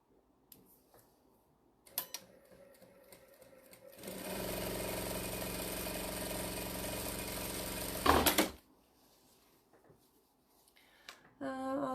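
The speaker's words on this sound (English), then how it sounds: "And she will fill up while I sew." A domestic sewing machine runs fast and steady for about four seconds while its bobbin winds, preceded and followed by quiet handling clicks and knocks, with nobody speaking.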